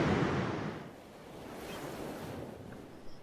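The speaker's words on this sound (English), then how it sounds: "Ocean in view." Pacific Ocean surf washes onto the Oregon coast, a broad continuous roar of waves with wind noise, loudest at the start, then easing before building again.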